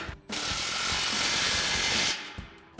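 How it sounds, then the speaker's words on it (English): A power tool spins a 13mm socket to tighten the muffler inlet clamp on a 2019-2024 Silverado or Sierra 1500 MBRP Armor Lite dual exhaust, giving one loud, close, steady mechanical whir of about two seconds. "And we'll tighten down our muffler inlet clamp."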